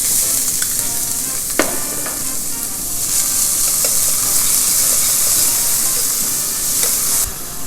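Chopped onions sweat in a hot pan as the base for a prawn and mushroom risotto, giving a steady close sizzle with occasional stirring clicks and scrapes, loud and continuous with no talking.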